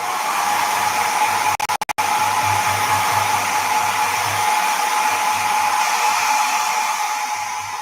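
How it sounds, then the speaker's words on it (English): A hair dryer blows steadily over wet Liquitex paint on a sketch card, a loud continuous whooshing hum that holds for the whole stretch, broken once by a brief cluster of sharp clicks. "I'm gonna run a hair dryer, guys, right over top because it's still a little wet"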